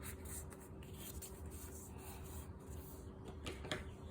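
A paper index card being folded in half by hand, a faint, close rubbing and creasing rustle lasting a few seconds with no one talking.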